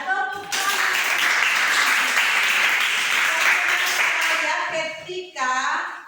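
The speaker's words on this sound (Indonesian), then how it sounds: "Iya, tepuk tangan." A group claps and applauds in a classroom lesson, a dense sustained burst of hand clapping that cuts off briefly near the end before resuming, with faint voices underneath.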